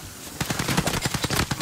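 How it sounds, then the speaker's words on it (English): Rapid video-game gunfire in Warzone, a loud burst of repeated automatic shots in a quick steady rhythm that starts after a brief quiet moment and continues to the end. "I'm getting shot from them."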